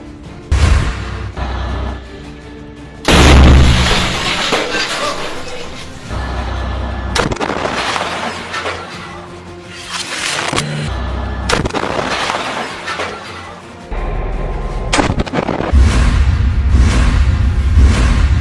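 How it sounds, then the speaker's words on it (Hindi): A shoulder-fired rocket launched at a Merkava tank in Gaza explodes, with repeated loud booming blasts and gunfire-like bursts, whooshes and rumbling low thuds, harsh and close throughout. "हमास का एक लड़ाका कंधे पर रॉकेट रखकर इस टैंक के ऊपर फायर कर देता है, जिसमें जोरदार ब्लास्ट होता है"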